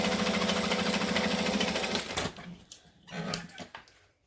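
A sewing machine runs top stitching along folded vinyl on a bag, a loud, close, rapid mechanical chatter for about two seconds, then stops, followed by a short second burst of stitching.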